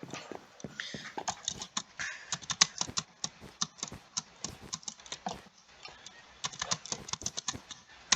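Computer keyboard keys clack in rapid irregular bursts while someone plays Minecraft, dense close tapping with dozens of strokes and no talk.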